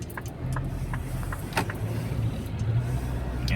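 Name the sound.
truck slowly squeezing past on the road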